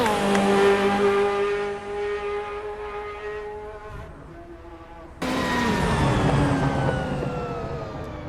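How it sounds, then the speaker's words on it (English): A race car downshifting in the Assetto Corsa Evo racing game: a loud engine whine that drops in pitch, then a sharp jump to higher revs as the next gear bites and the note falls again, with no talking. "Those downshifts sound nasty, baby."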